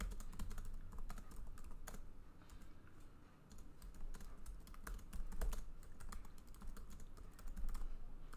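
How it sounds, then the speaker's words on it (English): Rapid clicking of keys on a computer keyboard, a steady stream of close, fairly quiet keystrokes with no voices. "You can of course type some text."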